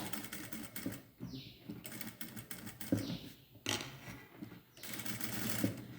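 A sewing machine stitches a scallop design on canvas cloth, running in short bursts with brief stops between them while the curve is turned, the whirring clatter close and fairly quiet.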